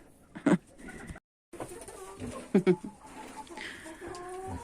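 Chickens and ducks clucking and cooing in a barn with goats, a couple of louder bird calls standing out over a busy background of shuffling and movement.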